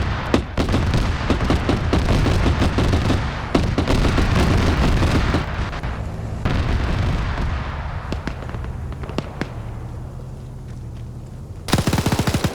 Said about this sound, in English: now we got the autocannon firing